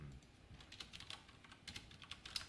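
Fast, light key clicks of code being typed on a computer keyboard during a C programming lesson, an irregular close patter of keystrokes with small pauses.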